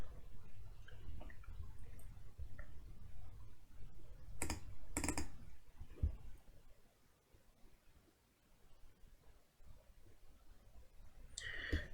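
A computer mouse clicks a few times while working through a software installer: several sharp, isolated clicks close up over a steady low room hum, with no talking.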